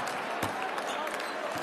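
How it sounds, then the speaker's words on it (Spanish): Applause and clapping from a basketball team's bench during a timeout, a steady dense patter of hands with crowd noise behind it, fairly close and continuous with a few sharper claps standing out. "Aplauden desde el banquillo de la peña."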